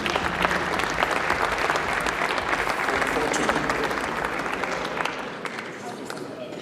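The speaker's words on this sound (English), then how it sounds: "let's give a round of applause, ladies and gentlemen." An audience at a university sports colours and awards ceremony gives a full round of applause for athletes on stage. The crowded, continuous clapping stays loud and gradually eases off toward the end, with voices mixed in.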